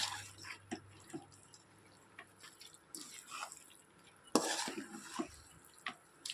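Chicken fry being stirred and mixed in a pan, with scattered scraping and clinking taps of a utensil against the metal at close range, plus soft sizzle in between, without any talking.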